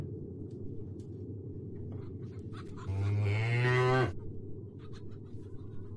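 A single long, deep cow moo in the point-and-click game The Whispered World rises out of a constant low hum and ends abruptly after about a second, followed by scattered soft clicks.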